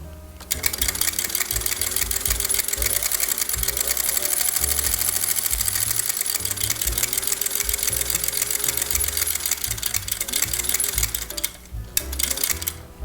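A sewing machine stitches a buttonhole, running continuously at close range with a fast, rhythmic mechanical chatter and hum that shifts pace slightly, then slows and stops near the end.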